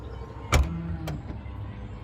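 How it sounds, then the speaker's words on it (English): Tesla Model 3 power-operated boot closing, a faint motor whir followed by a sharp latch thunk and a second softer click, quiet and close. "it is power operated to close the boot, like so"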